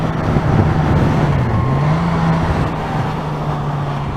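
A Lotus sports car passes nearby, its engine a steady droning hum with a slight rise and fall in pitch, heard alone over continuous road noise.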